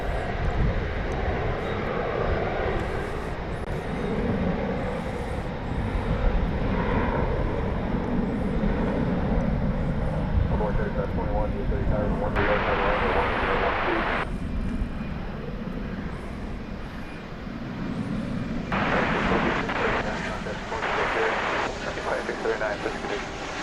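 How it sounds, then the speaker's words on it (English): An American Airlines Boeing 737-800 on Flight 389 at DFW Airport gives a steady, loud jet engine roar that persists throughout, with a commentator talking over it. "This is another 737-800. It's American Flight 389 to Mexico City."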